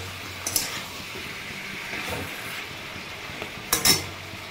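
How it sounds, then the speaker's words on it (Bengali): Tomato chutney being stirred in a pan over a high flame, with a few soft scrapes and light metallic clinks spaced apart over a steady low hiss, fairly quiet and close. "হাই ফ্লেমে একদম এটুকু ভালো করে নেড়ে চেড়ে নামিয়ে নিই"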